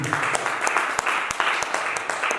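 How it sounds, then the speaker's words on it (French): Congregation at a church healing service applauding together, a dense burst of rhythmic clapping at moderate loudness with some accented claps, with voices mixed in. "Acclame Jésus"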